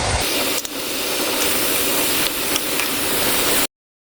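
Chopped onions, green chillies and tomatoes hitting a hot pan of keema, giving a steady loud sizzling hiss that runs unbroken for several seconds and then cuts off abruptly.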